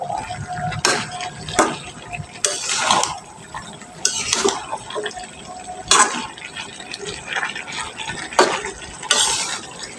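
Water is poured into a vegetable dish cooking in a pan, with sizzling and splashing alongside repeated stirring scrapes and clatters of a utensil against the pan, all close by.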